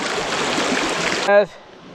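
Creek water rushes steadily as a broad, close flowing hiss for most of the moment, then a brief tonal bump cuts in and the sound drops to a quieter flow.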